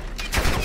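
Gunfire in the video game Call of Duty DMZ, a short, loud, dense burst of rapid shots that swells toward the end, with no voices over it.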